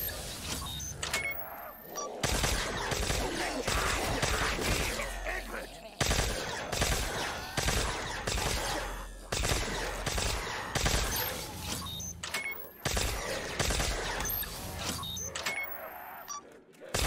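Rapid bursts of Rager Mark II gunfire in a Christmas zombie home-invasion video game, loud and dense, coming in several sustained volleys separated by brief pauses over game noise.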